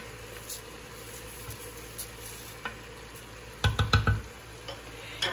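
Rice spread and leveled with a utensil over meat and carrots frying in a pan, giving a short burst of scraping, clattering strokes near the end over a soft steady sizzle.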